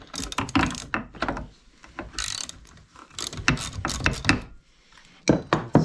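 A ratchet wrench clicks in quick, uneven bursts while a spark plug is loosened from a used garage-sale chainsaw, close and crisp with short pauses between turns.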